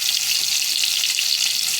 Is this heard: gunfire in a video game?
no